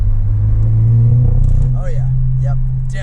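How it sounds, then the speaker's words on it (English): A Ford Focus ST engine drones loudly under acceleration with a rough, uneven note from a misfire, while someone talks over it. "Oh yeah, she's definitely breaking up."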